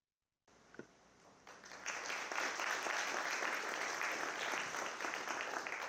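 An audience at an event marking 35 years of Brazil's Consumer Defense Code breaks into applause for a video, starting after a short pause and swelling into sustained, even clapping.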